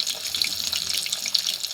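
Water bubbling and hissing in a pot where broccoli is boiling, a steady rushing wash of sound, close and fairly loud, with no voices.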